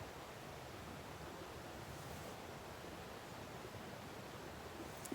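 Steady broadband rush of creek water flowing near a forest campsite on the Ozark Highlands Trail, soft and even throughout, with no voices and a small bump right at the end.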